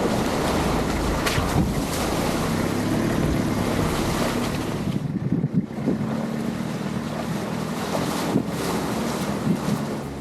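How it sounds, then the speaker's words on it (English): Wind blows hard through the Australian bush as a continuous loud roar with gusty buffeting against the microphone, rising and easing briefly but never stopping. "If you ever find yourself out in the bush on a windy day like this"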